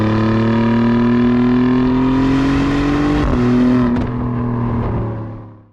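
Alfa Romeo GTA's V6 engine with an Akrapovic exhaust revs loudly and up close, a rich harmonic howl that climbs steadily, drops with a shift, then settles and fades out at the end.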